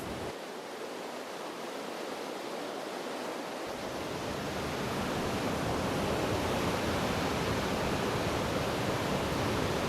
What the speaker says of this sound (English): The waterfall goes about 50 meters deep, and when we have a lot of water, it's about 70 meters in width.